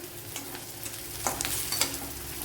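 Onions sautéing in a pan for a restaurant-style chicken fry, a soft continuous sizzle with a few light scrapes of stirring, close and alone.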